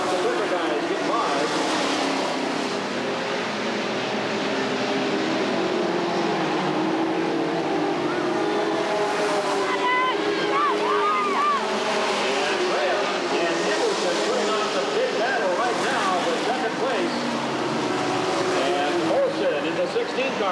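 Street stock race cars racing at a raceway in 1989, a continuous engine roar from a distance under steady race commentary.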